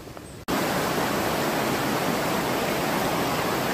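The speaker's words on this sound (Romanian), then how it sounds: "Acum mergem la cascada 7 izvoare." A steady, loud rush of falling water fills the scene at Cascada 7 izvoare, a waterfall in an unpolluted mountain area, beginning with a brief quieter moment before the broadband roar holds constant.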